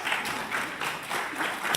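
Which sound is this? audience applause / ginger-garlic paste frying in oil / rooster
audience applause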